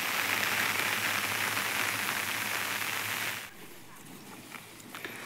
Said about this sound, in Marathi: अरे पाऊस वाढला आता जास्त